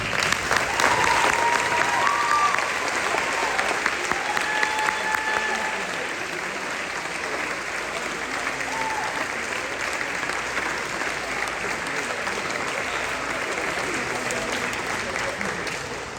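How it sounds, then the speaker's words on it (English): A large audience at a high school academic awards ceremony applauds steadily for a long stretch, strong at first and then settling into even, sustained clapping that echoes through the room. "Would you please stand in a round of applause for her?"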